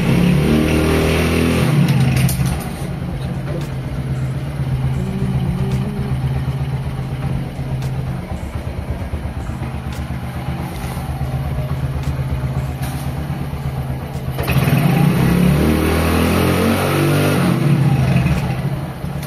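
The engine of a Honda Win 100 motorcycle revs while parked in a residential complex. A steady loud engine drone swells at the start, settles to an even idle-like hum, then rises again near the end.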